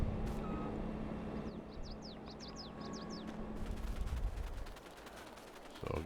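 Repeated electronic reversing beeps from a truck in the farming game Farming Simulator 22, a quick run of short chirps over a steady engine drone, then heavier rumbling machinery with no talk.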